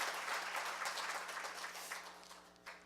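Audience applause fills a forum hall at Korea University as former National Assembly Speaker Chung Ui-hwa is welcomed, a dense, steady clapping that gradually thins and fades over a few seconds.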